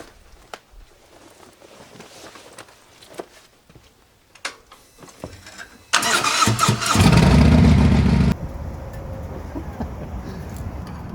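A Harley motorcycle engine cranks and fires up outdoors by a gas pump after some shuffling and handling noises, roaring loudly for a couple of seconds before settling into a lower, steady idle.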